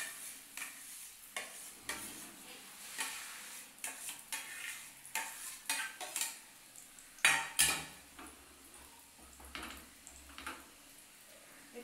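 Egg batter for an omelette poured into a hot frying pan over low gas, with soft sizzling under repeated scraping and stirring of a utensil against the pan, a brief louder clatter midway, no speech.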